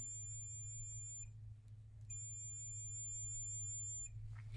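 Continuity-test beep from a digital multimeter as the probes touch, two sustained high-pitched electronic tones, each about a second long, separated by a short gap, over a low hum in a quiet room.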